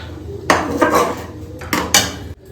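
Metal pot and strainer clatter in a home kitchen as cauliflower soup is poured off the gas stove, with a few sharp clanks and scraping bursts close up and no talking.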